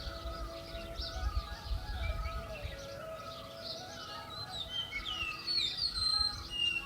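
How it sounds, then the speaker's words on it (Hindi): Morning birdsong in the mountains near Nainital, where one bird repeats a steady call while others chirp and twitter at moderate distance over a soft low background. "ये आवाज़ आई ना पक्षी की।"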